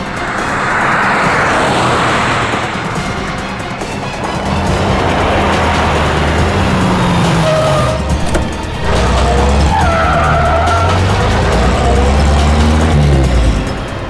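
A car speeds off with a loud, sustained engine roar and skidding tyres, rising in pitch through the middle and holding steady to the end, with no talk over it.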